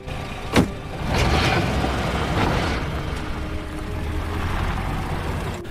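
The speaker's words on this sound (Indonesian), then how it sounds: "Kemudian ketika mobil selesai diperbaiki, mereka pun kembali melanjutkan perjalanan." A repaired car pulls away and drives off, a steady engine and road rumble following a sharp thump, fairly loud and sustained without speech.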